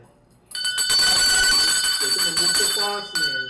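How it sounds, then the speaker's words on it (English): A loud, sustained electric bell rings continuously for about three seconds after a short quiet start, with a voice speaking over its final part. "Ring the bell."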